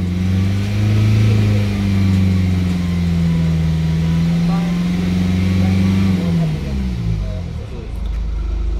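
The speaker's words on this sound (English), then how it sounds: "So foot on the brake, keep the rev up a little bit." A 2018 Mercedes E-Class engine held at raised revs during a service after priming: a steady, close, droning hum that holds level, then settles back toward idle near the end.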